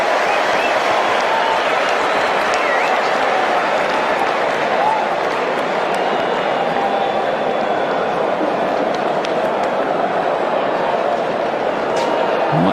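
A large cricket stadium crowd at a T20 match applauding and cheering, a dense, steady roar of clapping and noise that fills the whole stretch without a break.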